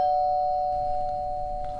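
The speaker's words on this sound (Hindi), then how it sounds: "जब तक दरवाजा नहीं खोलूंगी ये जनाब घंटी बजाते ही रहेंगे।" A doorbell rings with a sustained electronic chime tone that lingers and fades slowly, close and clear, with no talking.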